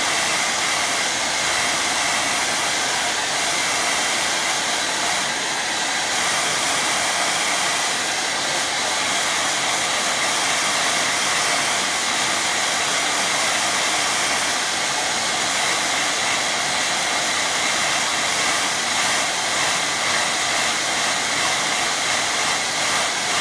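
A hair dryer blows steadily on a watercolour painting of fields, a loud, close, unbroken whoosh that holds even throughout with no pauses and no talk.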